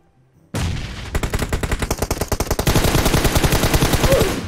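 Rapid automatic gunfire in PUBG, a burst of closely spaced loud shots starting abruptly, then continuing in a fast steady rhythm with sharp repeated cracks, close and dominant.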